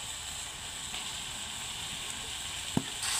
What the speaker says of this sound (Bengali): তো মাংস এইভাবে নাড়তে নাড়তে একটু ভাজা ভাজা করে নেবেন